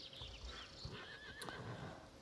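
A horse neighs in a horse-riding video game, a single rising and falling whinny over faint background hoof clopping and game ambience, fairly quiet overall.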